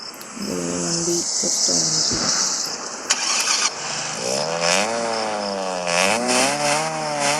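A small car that looks like a Maruti 800 cranks with a few stuttering turns, catches and starts, then runs close up with a buzzy engine note that rises and falls as it is revved.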